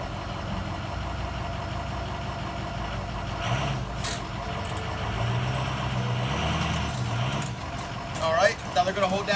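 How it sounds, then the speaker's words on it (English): Pickup truck engine idling and creeping forward onto trailer levelers, a steady low rumble throughout with a slight rise in revving near the end, outdoors. "You're going to have somebody drive the truck forward a little bit until it gets up to the right level."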